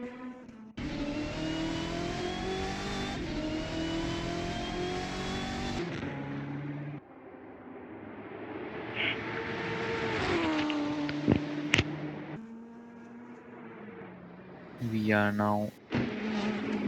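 LMP prototypes and GTE cars race in a multi-class field at Fuji, engines roaring loud and close with revving pitch sweeps and a fast pass near the end, under continuous commentary.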